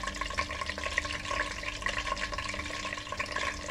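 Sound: crushed garlic frying in oil

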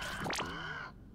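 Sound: crow cawing in a video game

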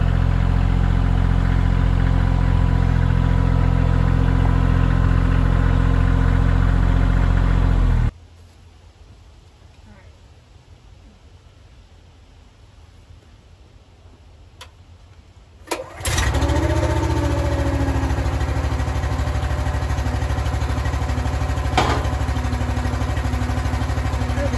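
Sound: firewood log splitter engine warming up and running

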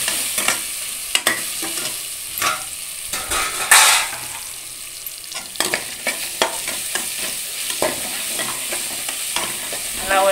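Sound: sautéing ginger garlic paste for biryani

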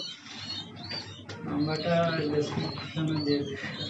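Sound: lovebirds at a bird farm

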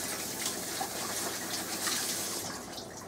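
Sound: washing hands under running tap water

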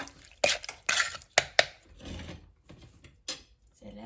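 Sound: pounding blanched squid salad in a mortar

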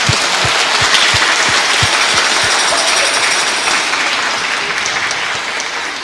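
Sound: children applauding in a church

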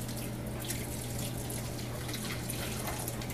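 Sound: water slowly poured over grains for home-brew sparging

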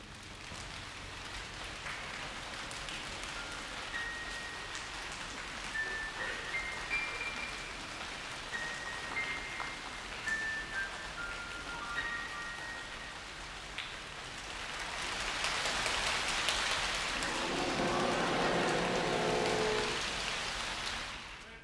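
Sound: rain imitated by orchestra

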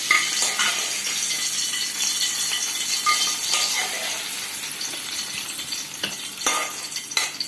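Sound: tempering poured sizzling into Kerala prawn curry

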